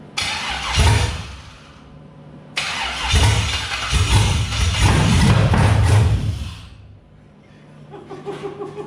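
An LS-swapped OBS Chevy truck engine with open headers cranks and fires, roaring loudly twice in bursts before settling into a rough idle, close and raw with no talking.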